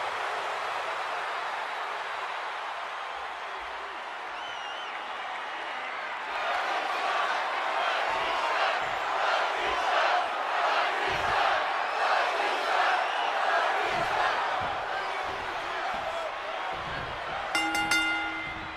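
A large arena crowd in the WWE 2K26 wrestling video game roars and cheers in a sustained wash of noise that swells louder partway through, with rhythmic chanting pulses and brief announcer speech.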